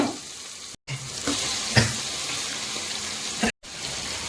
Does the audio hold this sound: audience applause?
no